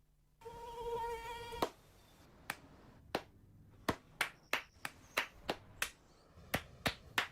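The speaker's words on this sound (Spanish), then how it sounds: "No aplaudamos al mosquito, combatámoslo en serio." A short thin buzz like a mosquito whining, followed by a series of sharp claps or slaps spaced irregularly, close and crisp.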